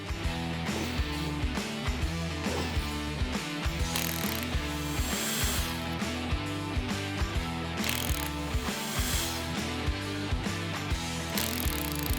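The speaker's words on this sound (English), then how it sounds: "we're just gonna take the head bolts off." Rapid rhythmic ratchet clicking as engine head bolts come off an old engine being disassembled, close and loud in repeated bursts with brief metallic pauses.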